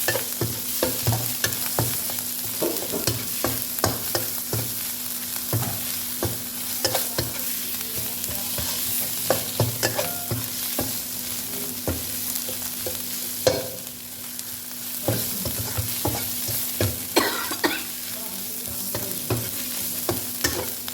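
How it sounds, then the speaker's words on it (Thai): Pork stir-frying with Thai curry paste of pepper, dried chili, shallot and garlic, a continuous close sizzle punctuated by frequent rhythmic scrapes and clacks of the spatula against the pan, no voices. "เอาหมูผัด"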